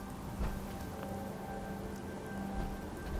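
Steady heavy rain pours down in Fallout 4, a dense, even hiss at moderate level with a faint tonal hum behind it and no talk.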